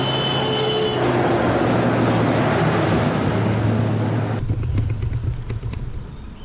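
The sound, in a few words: vehicle approaching on mountain ghat road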